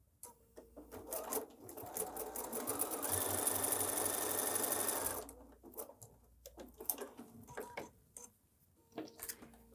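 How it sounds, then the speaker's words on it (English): A sewing machine stitches quilting cotton for a pineapple quilt block, running in one steady, fast whirring burst of a couple of seconds, with quieter handling clicks and rustles of fabric before and after. "or we'll sew on the opposite side"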